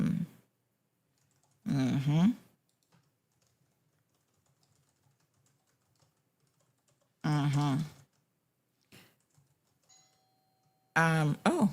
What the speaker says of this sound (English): we got somebody ringing the doorbell